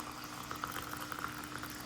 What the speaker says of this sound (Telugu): చూడండి ఎట్లా బాయిల్ అవుతుందో కెటిల్లోను